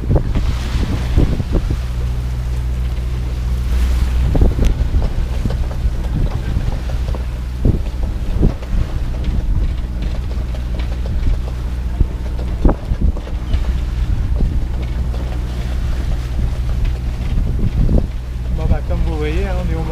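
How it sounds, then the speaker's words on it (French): Strong wind buffets a sailboat at sea on the passage from Valencia toward Dénia, a loud continuous roar with gusty microphone rumble, waves and hull sounds beneath, and a voice talking over it. "on a le vent en plein dans la tronche"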